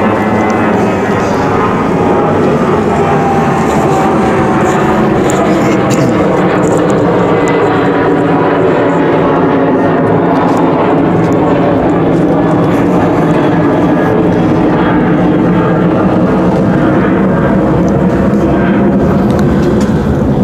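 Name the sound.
airplane flying over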